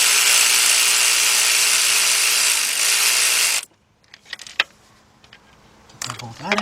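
A power tool, likely an impact gun, zips a bolt out of a 2014 Volkswagen Beetle 2.0 engine during timing chain work on a no-start car, a loud continuous whir for several seconds that cuts off into quiet clinks of tools and parts.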